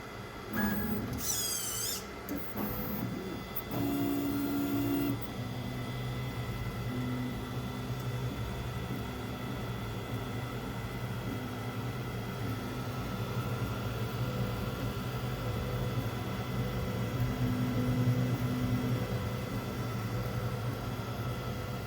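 A ProForge 5 tool changer 3D printer runs steadily through a print, giving a continuous mechanical hum with faint tonal stepper whines and a few brief higher chirps near the start, heard alone without speech.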